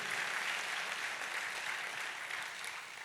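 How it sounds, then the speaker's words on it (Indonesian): A church congregation applauds during a sermon, a soft, distant, even wash of many hands clapping that holds steady and fades slightly toward the end. "Kita kasih tepuk tangannya meriah buat Tuhan kita"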